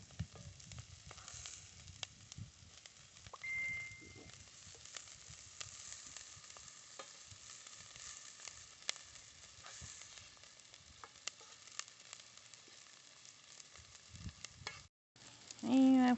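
Onions fry in a pan during traditional Zambian home cooking, giving a quiet, continuous sizzle with scattered crackles and the occasional scrape of stirring, then a brief gap and a short louder noise at the end.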